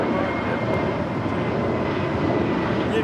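An airliner's engines roar steadily during its takeoff roll on runway 25 right at LAX, a loud continuous broadband rumble that holds evenly throughout with no voices on top.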